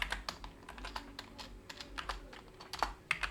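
Python code typed on a computer keyboard, with quick irregular clicking keystrokes up close against a faint steady background hum and no talking.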